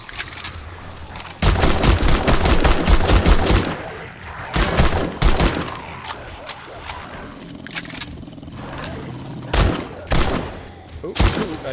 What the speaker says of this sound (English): I guess I'm just shooting at him